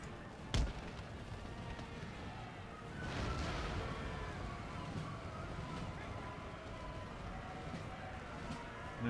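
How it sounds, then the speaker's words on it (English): Distant cannon fire on a Napoleonic-era battlefield in Empire Total War, one sharp boom early then a low rumbling barrage under steady ambient noise. "And I'm still hearing cannon fire, but I don't know where it would be coming from."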